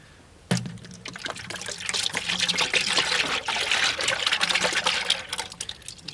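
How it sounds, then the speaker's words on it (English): Chocolate milk pours from a container into a bucket outdoors, opening with a sudden gush and then a steady splashing, gurgling stream that stays close and fairly loud for several seconds. "we're gonna pour it in a bucket and give them a little treat for the evening"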